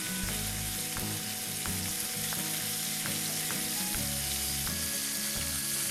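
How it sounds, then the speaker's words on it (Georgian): Chicken browns in 30 grams of butter in a pan, a loud, continuous sizzle with repeated clicking and scraping as the pieces are turned and moved. "ქათამი კარგად დაიბრაცა ერთი მხრიდან"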